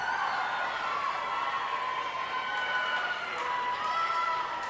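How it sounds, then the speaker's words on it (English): Home and visiting crowds cheer together at a girls' high school swim meet as a swimmer closes in on her final lap, a steady, loud wash of voices filling an echoing pool hall throughout. "Home crowd and the visitors cheering her on as she closes in"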